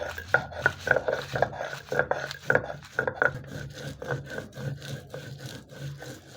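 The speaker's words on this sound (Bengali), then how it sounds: "আমি মরিচগুলোকে একটু বেটে নিচ্ছি।" Dried red chilies are ground by hand into paste for a salted hilsa fritter, heard as a close rhythmic scraping and rubbing of stone or grinder, repeated strokes without talk.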